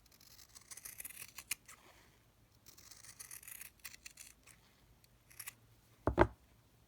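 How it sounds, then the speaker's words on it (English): Scissors snip through scrappy patchwork fabric to shape a leaf, with quiet, close crunching cuts in short bursts and one louder snip near the end. "let's now cut it into a leaf shape"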